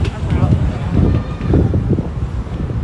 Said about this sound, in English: Yeah, it's a little windy out here.